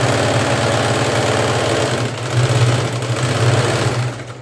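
Sewing machine running steadily up close while stitching a readymade blouse being taken in for fitting, a loud continuous mechanical whir with a brief speed-up partway through before slowing at the end.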